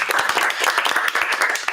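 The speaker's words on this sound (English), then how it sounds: "Can we clap?" A small audience at a community talk claps briefly, a loose patter of hand claps at moderate volume with no other sound standing out.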